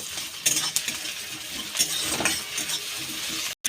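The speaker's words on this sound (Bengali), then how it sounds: "তেল ভালো করে গরম হয়ে গিয়েছে এবার পেঁয়াজ কুচি দিয়ে দেব" Chopped onion frying in hot oil, with a dense continuous sizzle and occasional stirring clinks of a utensil against the pan, close and steady, no voices.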